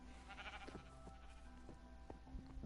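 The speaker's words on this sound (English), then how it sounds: "Why is there a sheep in my yard?" A sheep in Minecraft bleats a few short times against a faint, steady background hum, quiet and alone with no talking.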